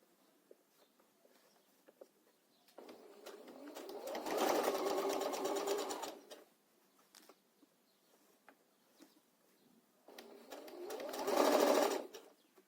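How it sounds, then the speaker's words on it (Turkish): A sewing machine runs a straight stitch along a pleated pillow in two steady bursts of whirring, each lasting a few seconds and separated by quiet pauses with light handling clicks. "Şimdi bu şekilde hazırladıktan sonra buradan bir düz dikişle sabitliyorum bunu buraya."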